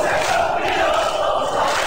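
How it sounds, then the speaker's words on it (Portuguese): A stadium crowd of Flamengo fans chants in the Bomba Patch PS2 football game, a dense, steady roar of massed voices that holds at an even level throughout with no commentary over it. "A torcida do Flamengo começa a cantar."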